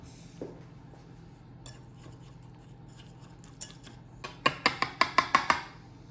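Cutlery clinks and scrapes against plates as eggplant parmigiana is served, a run of six sharp, evenly spaced clinks toward the end following softer scattered taps, close and fairly loud over a quiet room.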